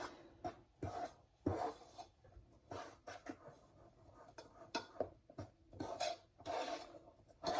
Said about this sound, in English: scrape the bottoms down underneath the pan